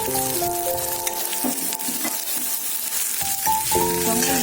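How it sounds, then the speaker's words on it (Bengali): 250 grams of washed, dried Gobindobhog rice fries in hot oil for muri ghanto, a close, steady sizzle broken by scraping stirs and faint clinks in the background. "চাল ভাজা হয়ে গেছে"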